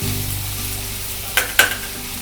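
Finely chopped onion sizzles and fries steadily in a pan while sprouted matki usal is cooked, with two short louder stirring scrapes near the end; no one speaks.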